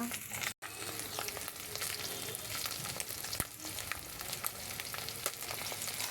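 Stinging catfish frying in hot oil, a continuous close crackling sizzle with scattered pops and spits. The sizzle cuts out for an instant near the start, then carries on unbroken.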